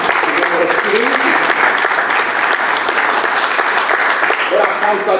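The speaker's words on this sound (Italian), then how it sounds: "Quindi un applauso ai comitati che finora sono costruiti." An audience at a Fratelli d'Italia political event claps for the committees, a dense, sustained round of applause that lasts the whole time and is loud and close, with no one speaking over it.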